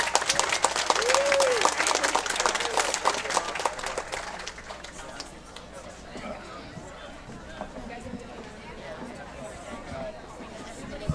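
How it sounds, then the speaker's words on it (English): An audience at an outdoor Oktoberfest applauds after a high school chorus solo, with bright clapping for about four seconds that then thins into murmuring crowd chatter. "So give her a round of applause."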